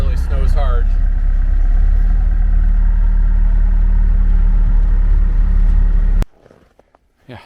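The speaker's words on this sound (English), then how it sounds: "That's the snowblower in action" A hydraulically powered snowblower, 85 inches wide, runs steadily with a loud, constant engine-like drone close by, then cuts off abruptly near the end, leaving brief faint rustling.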